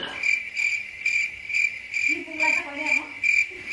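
Crickets chirp at night in a steady, pulsing rhythm, a dense chorus of evenly spaced trills that stays close and fairly loud throughout, with a faint low rustle joining midway.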